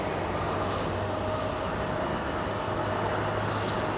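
Jet airliner at Phoenix airport, a steady, faint engine roar with a low hum running under broad rushing noise, heard from a distance and holding even throughout.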